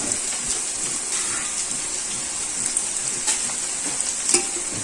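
Shredded cabbage with curry leaves tossed in a hot pan for a Kerala dish, a soft continuous frying hiss with occasional scraping stirs, steady and close throughout.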